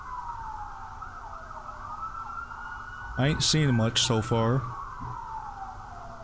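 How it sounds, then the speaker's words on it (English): Police sirens in a video game wail steadily in the background, a long sweeping tone rising and falling, while a person talks briefly over them midway. "we got, like, police sirens, and we're back to the house."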